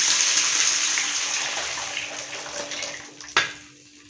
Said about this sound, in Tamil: கரைச்சி வச்சதை நம்ம தண்ணியில் கரைச்சிட்டு இது பாருங்கள் இந்தமாரி தண்ணியாக கரைச்சி ஊற்றலாம்